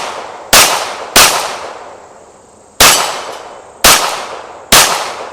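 A Springfield Prodigy 1911 DS 9mm pistol fires five sharp, loud shots at an uneven pace, each crack trailing off in a short echo, with no voices in between.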